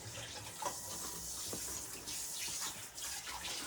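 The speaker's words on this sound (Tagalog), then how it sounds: "Tapos maglagay po tayo ng tubig." Water runs into a bowl of mackerel fish ball batter made with eggs and flour, a faint, steady close-up trickle and splash.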